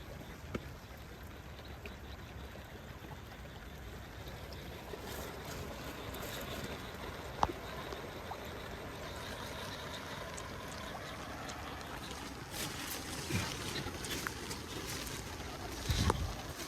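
Fast floodwater rushing through Linga village during heavy monsoon rain, a steady broadband roar of flowing water and rain. It holds throughout and swells slightly near the end, with no talk.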